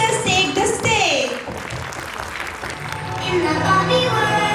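A kindergarten annual function audience claps and cheers, the applause rising and falling for several seconds with children's voices and chatter mixed in.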